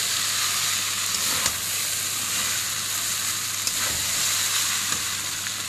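Chowmein sizzles steadily in a hot pan as it is stirred and tossed, a dense continuous frying hiss with a few soft scraping knocks, fairly close and with no one talking.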